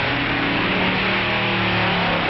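A drag racing car in a dragliner event roars with a loud, continuous engine note, heard close and alone with no voices.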